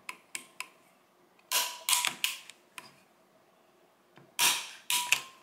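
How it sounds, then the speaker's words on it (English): Sharp mechanical clicks and snaps from the trigger group of a SIG SG 510 / Sturmgewehr 57 rifle being dry-tested after reassembly, a dozen or so close, dry clacks in irregular pairs and clusters, with no voices. "Now that the screws are snug, I'm just going to test the trigger again"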